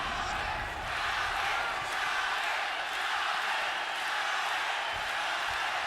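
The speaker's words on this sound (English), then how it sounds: "Pro-Chavez crowd trying to urge him on for more." Dense arena crowd roar at a Julio César Chávez Jr. vs. Sebastian Zbik boxing match, fans urging Chávez on, steady and loud throughout with broadband cheering and no clear breaks.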